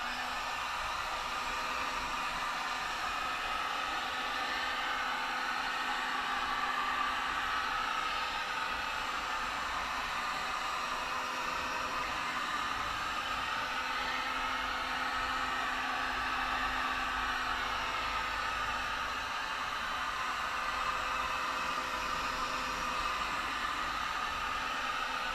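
A heat gun blows a steady, even hiss of hot air at a car fender before the fender lip is rolled, a constant close whoosh that runs uninterrupted with no talking.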